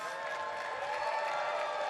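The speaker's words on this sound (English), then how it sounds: "I mean, really enthusiastic applause." Enthusiastic applause and cheering from a crowd at a live stage performance, a steady continuous wash of clapping with voices mixed in throughout.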